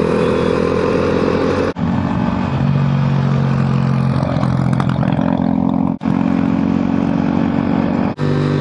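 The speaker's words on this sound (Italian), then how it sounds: "Un Porsche Cayenne." A Porsche Cayenne engine drones loud and close, with a steady mechanical hum broken by a few brief gear-change dips.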